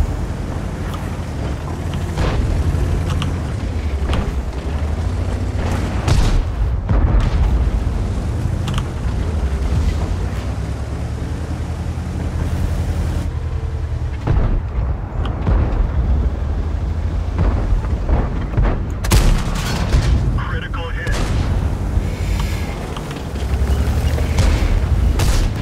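Bat-Châtillon tank cannon fire in World of Tanks booms repeatedly over a churning engine rumble, with several sharp loud blasts scattered through the stretch and one large shot standing out late.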